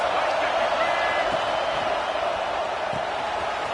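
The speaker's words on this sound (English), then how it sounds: "This crowd trying to make life miserable for this offense." A dense, unbroken roar from a packed football stadium crowd hammers on at constant loudness, with a voice faintly audible beneath the wall of noise.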